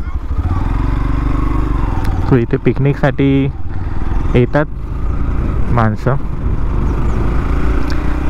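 A motorcycle engine drones loudly and steadily while riding from Mumbai to Khandi in the monsoon, with wind rumble throughout and someone talking over it.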